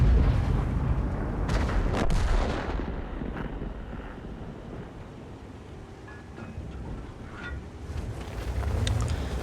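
A heavy tank gun fires in a tank video game, a deep booming report near the start that rolls off into a long low rumble of battlefield ambience with faint distant thuds.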